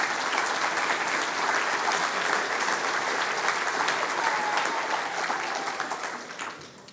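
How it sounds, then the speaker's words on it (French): An audience at a mayor's New Year reception applauds a Miss France finalist, with a long, dense run of clapping that holds steady and then tapers off toward the end. "Mais vous pouvez l'applaudir"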